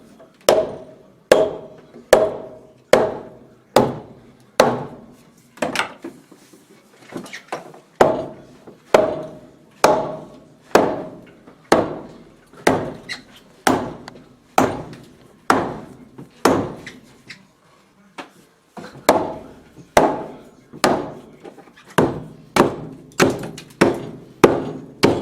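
Repeated hammer blows on a wooden beam during a beam project, a steady run of sharp, loud knocks about one per second, with a short pause midway, close by and with no talk over them.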